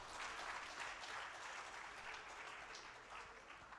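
An audience claps steadily at an anti-corruption convention, a dense, even wash of many hands heard from some distance, sustained throughout without pause.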